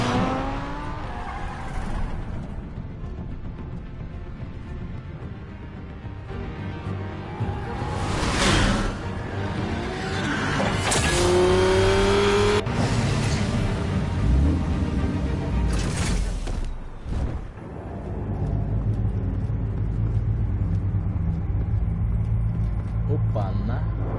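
A car in the Batman video game drives and revs with engine rumble and tire squeal, loud and continuous, under spoken dialogue and music.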